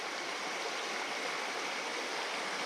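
A river in the Australian bush flows with a steady, soft broadband rush of water, constant and unbroken, with no voices.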